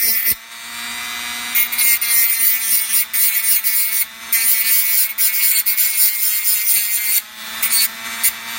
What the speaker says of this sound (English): you can also use your Dremel